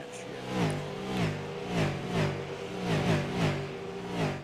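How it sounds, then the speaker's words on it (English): Race cars on a front straightaway, roaring past one after another in a repeating rise-and-fall rhythm of engine revs, moderately loud and steady. "you can hear them sounds of them cars when they drive by on that front straightaway there"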